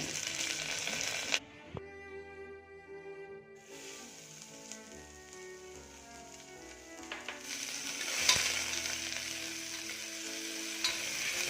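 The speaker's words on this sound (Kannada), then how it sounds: "ಎರಡು ಈರುಳ್ಳಿಯನ್ನು ಕಟ್ ಮಾಡ್ಕೊಂಡು ಹಾಕ್ಕೊಂಡು ಫ್ರೈ ಮಾಡ್ಕೊಳ್ತೀನಿ" Onions, mustard seeds, chana dal and curry leaves frying in oil in a cooker, a steady close sizzle with bursts of crackle and stirring scrapes, no voices.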